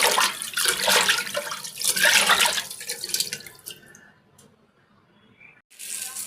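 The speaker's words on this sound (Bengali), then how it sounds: "কাটা হয়ে গেছে, আমি এখন ধুয়ে নেব।" Water splashes and runs while cut fish is washed, coming in loud, hissing bursts that fade into a quiet pause before the flow starts up again.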